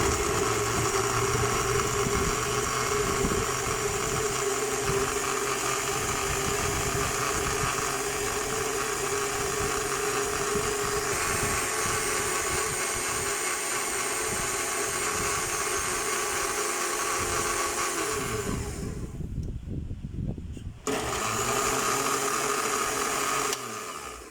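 Electric blender running loud and steady, blending cherry juice with lemon juice and a glass of water under a closed lid, a continuous whirring drone that briefly drops out near the end before resuming.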